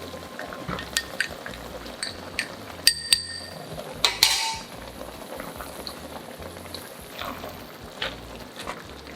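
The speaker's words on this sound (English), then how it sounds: "When it's bubbling, add the cornstarch." Sauce with pak choy bubbles and sizzles steadily in a pan, with scattered pops and a couple of sharp metallic clinks partway through.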